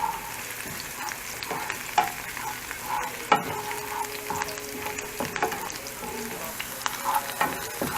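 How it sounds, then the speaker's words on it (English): Squid pieces and scallions, white parts first, sizzle steadily while frying and being stirred in a pan, with a continuous hiss broken by occasional clinks and scrapes of the utensil against the pan. "See, sizzling."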